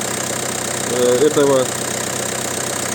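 A PSA 1.5 HDi DV5RC diesel engine runs steadily after a cold start, a continuous mid-pitched idle hum with a brief louder burst midway, while someone speaks over it.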